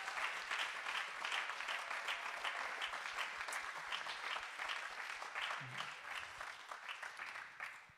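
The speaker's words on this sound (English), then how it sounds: "One more time, would you give them a hand clap?" Church congregation clapping for the sound and media team during a Christmas musical, a sustained crowd of hands at a fairly distant, soft level with individual claps audible, fading slightly at the end.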